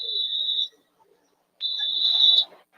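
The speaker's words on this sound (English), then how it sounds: "So now you've got a whistle from our referee." A referee blows a whistle to stop play at a high school sports game, Mineral Ridge Rams vs Jackson-Milton Blue Jays: two sharp, shrill blasts, the second longer, separated by a brief pause.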